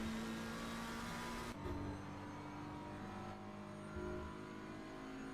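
BMW and McLaren GT3 race cars lapping Paul Ricard in a racing video game, a faint steady engine drone with gear shifts and shifting pitch, no voices.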